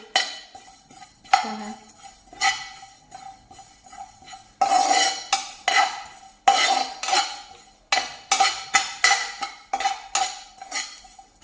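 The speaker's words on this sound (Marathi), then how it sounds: "थोडस ओवा हे आपल्याला छान असं एक मिनिटभर भाजून घ्यायचं आहे" Ajwain (carom seeds) and fennel seeds are dry-roasted in a pan. A utensil scrapes and clinks against the metal in repeated strokes and short bursts, close and fairly loud.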